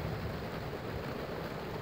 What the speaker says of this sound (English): crazy lightning storm. It's been going on for about 15 minutes.